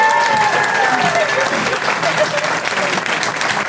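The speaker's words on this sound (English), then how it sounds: "huge round of applause for Kelli Taylor!" An audience at a stand-up comedy show applauds steadily, a loud dense wash of clapping with some cheering mixed in for its whole length.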